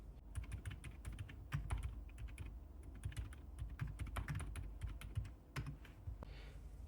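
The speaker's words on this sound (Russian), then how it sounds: "И из-за этого клавиатура очень тихая по тейпингу." Typing on a Dark Project x Akko 5087 keyboard with Silent Akko Fairy switches and added silicone dampening, a quiet, rapid patter of muted keystrokes in irregular bursts, close and soft.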